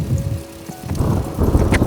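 Heavy rain pours down in a dense, noisy hiss outdoors in open countryside, with gusty swells and close spattering bursts, heard during a bicycle ride on the Paris-Roubaix route.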